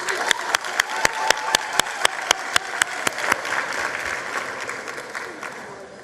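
Scattered clapping at a 2023 matric results announcement for KwaZulu Natal, with a run of loud, evenly spaced claps up close over softer crowd applause that fades toward the end.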